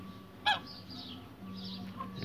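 A goose gives a single short honk near the start, standing out from a steady outdoor background, while a white female goose is being courted by a male nearby.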